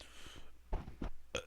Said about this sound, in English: Oh, that's a little burp there.